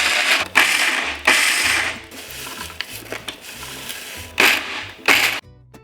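A blender pulses dry biscuit base ingredients for a vegan cheesecake, giving several short, loud whirring bursts with quieter mechanical clatter and hum in between, and no one speaks.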